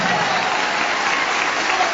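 Church congregation applauding Jesus during an evangelical testimony service, a loud, continuous wash of many hands clapping with no gaps.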